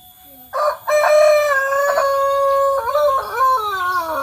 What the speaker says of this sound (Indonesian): Dede Arul ngikut ngasih makan ayam ya Dek ya?